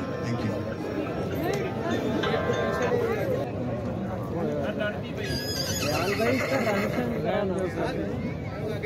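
A mare at a horse show in Pakistan neighing amid a noisy crowd, with hoof clops and steady voices and an announcer talking throughout.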